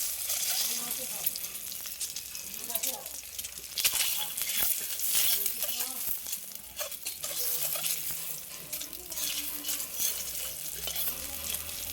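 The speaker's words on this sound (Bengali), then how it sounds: "এবার তেল দিয়েছি, অল্প করে দিয়েছি। দুটো ডিম ভাজবো।" Two eggs fry in a little oil, sizzling loudly and steadily with frequent stirring and scraping, while a voice speaks now and then beneath the sizzle.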